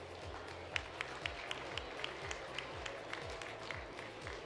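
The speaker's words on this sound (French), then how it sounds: "vous pouvez l'applaudir" Spectators at a feline show clap for the best female Siamese cat, soft, steady clapping from the room with a faint rhythmic thumping underneath, all fairly distant and quiet.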